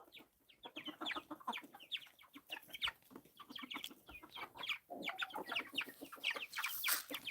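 Chickens cluck continuously in a busy flock, with a rooster's calls mixed in, fairly close and steady throughout.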